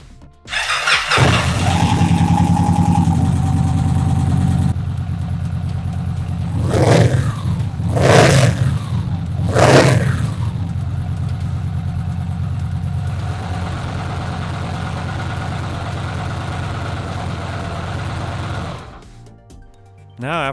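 A Victory Cross Country motorcycle engine cranks and fires up, then settles into a steady, throaty idle with a few sharp throttle blips in the middle, loud and close, before the engine shuts off near the end.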